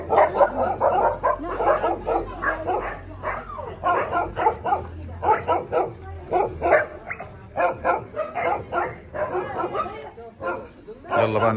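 Many dogs at an Egyptian dog shelter bark and yelp in dense, overlapping bursts, loud and close, with whimpers mixed in while someone talks over the din.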